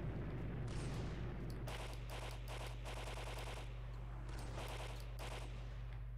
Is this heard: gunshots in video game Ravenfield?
yes